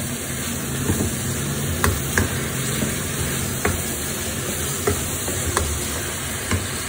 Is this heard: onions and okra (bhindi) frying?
yes